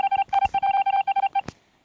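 A quick run of about ten telephone keypad dialing tones, short evenly spaced beeps played loud and close, followed by a brief click.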